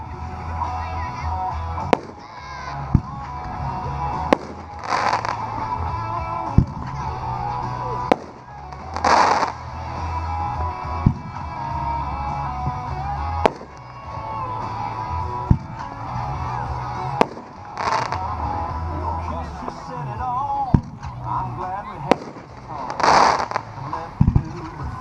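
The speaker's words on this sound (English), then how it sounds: "Next piece is another 9 on a board, 3-inch cake by Dominator, Mega Bomb." A Dominator Mega Bomb 3-inch 9-shot cake firework fires a series of loud booming bursts spaced a few seconds apart, with sharp crackling reports between them and people talking faintly in the background.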